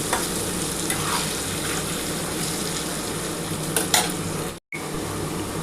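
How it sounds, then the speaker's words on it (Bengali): Potatoes fry and get stirred in a pan while cooking a cabbage dish, with a continuous sizzle and scraping spoon strokes. The sizzle runs steady and close throughout, briefly cut off near the end. "আলুটা মোটামুটি আমার ভাজা হয়ে গেছে"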